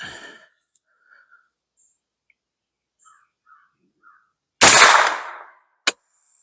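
Single shot from an Anderson AM-9 9mm pistol-caliber carbine at a 50-yard range, a sharp loud crack with a short decaying tail, followed by a brief faint echo-like snap, set against near silence with a few faint distant bird calls.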